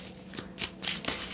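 Tarot cards being shuffled by hand, with several quick papery riffling bursts in an uneven rhythm, close and fairly crisp, over a quiet background with no talking.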